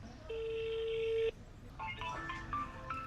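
A phone call starts with a single sustained tone, followed by a quick run of short electronic beeps at varying pitches like keypad or connection tones, quiet and close with no voices.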